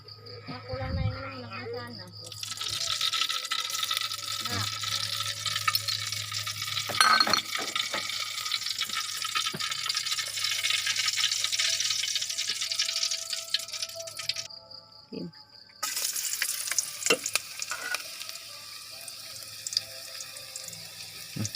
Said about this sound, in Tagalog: Bawang sibuyas tsaka tanglad. So magagisa na tayo mga lods.